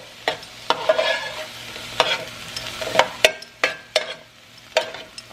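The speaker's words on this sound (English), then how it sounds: "I will get my spoon and start stirring it up" A spoon stirs a pot of homemade sloppy joe sauce as it cooks down, scraping and knocking against the pot in a dozen or so distinct strokes over a faint simmer, close and alone with no talking.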